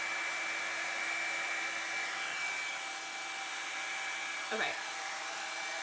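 Hot Tools Professional One-Step Blowout Styler runs as a steady, loud whooshing hum with a constant whine throughout; a voice speaks briefly near the end.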